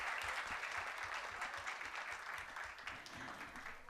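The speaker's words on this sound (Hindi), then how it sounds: "ज़रा ज़ोरदार तालियां बजाकर बताइए एक बार।" Vigorous applause from an audience of students at a college induction programme, a continuous dense patter that stays moderately soft and steady for about four seconds.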